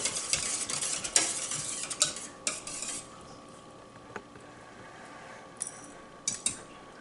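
A utensil clinks and scrapes in a bowl while an egg mixture for orange French toast is stirred, with bursts of quick stirring strokes at first that thin out into a few isolated taps against a quiet background.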